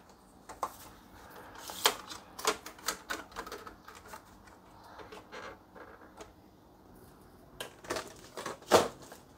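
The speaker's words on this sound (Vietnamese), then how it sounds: "Bây giờ in test giấy decal luôn." A Canon LBP 2900 laser printer printing a test on decal paper, giving irregular mechanical clicks, clatter and feed rattles at close range over a quiet background.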